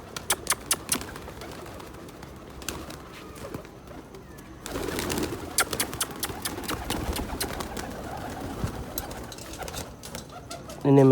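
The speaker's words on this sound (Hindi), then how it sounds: "बहुत ज़्यादा डर गए हैं कबूतर सारे ही" Frightened pigeons coo at night, with soft repeated coos and sharp wing flaps near the start, then a denser flurry of fluttering and shuffling from the middle on, ending in a loud burst of movement.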